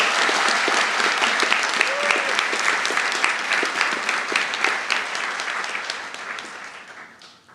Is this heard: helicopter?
no